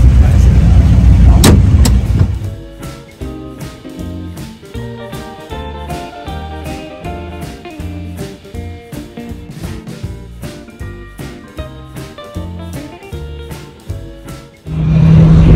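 A car drives fast on the Montlhéry racing circuit, its engine droning loud and steady with a pulsing, throbbing tone, framed by louder rushing bursts at the start and end.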